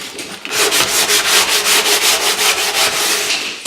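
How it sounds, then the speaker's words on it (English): A sandpaper block rubs rhythmically back and forth over the cut edge of a sink cutout in a kitchen bench top, rounding it off; the strokes are loud, close and evenly paced, with no voices. "And you just sand a little bit of a round on it."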